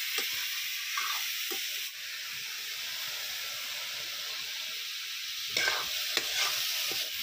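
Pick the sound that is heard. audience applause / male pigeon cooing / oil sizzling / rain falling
oil sizzling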